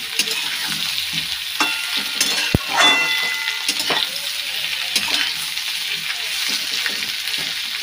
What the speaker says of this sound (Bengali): ভাজা হয়ে যায়,